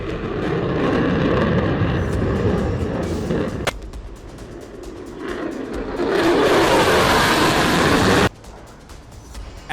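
F-35 fighter jet climbing after takeoff: loud, sustained broadband jet roar that shifts in intensity, with a sharp cutoff near the end, no talk.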